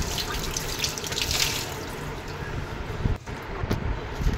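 Tap water runs steadily over a bael fruit being washed in a sink, a continuous close splashing hiss with brief dips as the fruit is turned under the stream.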